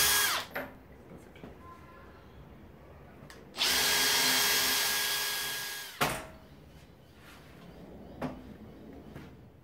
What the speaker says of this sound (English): Using the trusty drill from underneath, I've gotten 4 pilot holes drilled using the marks.